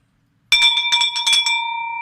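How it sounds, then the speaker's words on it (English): A bell is struck in quick repeated strokes to celebrate a deal, each hit bright and metallic, then a single clear tone rings on and slowly fades, close and loud with no talking. "Ring this bell."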